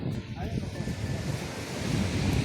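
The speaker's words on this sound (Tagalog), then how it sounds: "Ito kami sa tabi ng dagat." Sea waves washing ashore at the seaside, a steady broadband roar of surf with wind buffeting the microphone throughout, fairly close and continuous with no clear talk over it.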